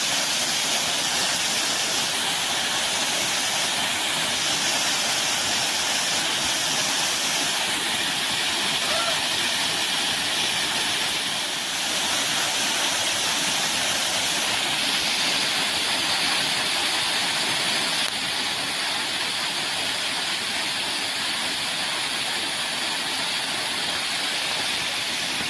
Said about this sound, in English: I'll be behind the waterfall, and then we will film behind the waterfall